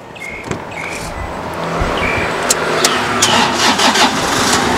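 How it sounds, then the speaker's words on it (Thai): A used four-door pickup truck engine cranks and catches, then runs at a steady idle with a broad engine rumble, fairly close and alone without talk. "เดี๋ยวสตาร์ทดูเครื่องหน่อย"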